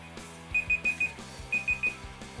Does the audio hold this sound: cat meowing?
no